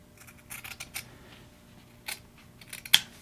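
Scissors snip through pool table cloth at a pocket in a few quiet, scattered cuts, with one sharper snip near the end and no talking.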